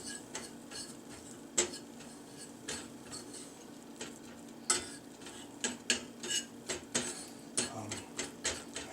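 A roux for potato soup stirred in a pot, a spoon scraping and clicking against the metal in an irregular rhythm of quick taps, close and fairly quiet, with no talking.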